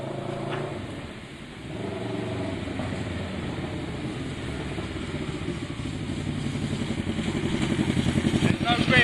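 A Kawasaki ER6n streetfighter project motorcycle on a test ride, its engine and exhaust droning steadily and building louder toward the end, with voices heard over the ride.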